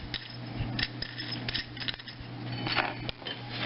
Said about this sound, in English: gonna have to put it in my vise right here and cut it with a hacksaw